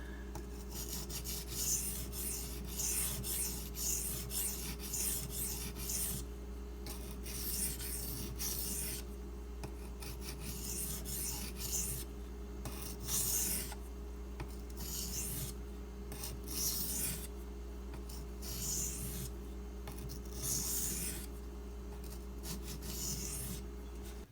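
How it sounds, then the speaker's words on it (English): Benchmade Mini Griptilian D2 knife blade drawn back and forth across a sharpening stone, a steady rhythmic rasping scrape repeated in close bursts over a constant low hum, with no talking. "I'm just going to do a few back and forth passes just to clean up the edge."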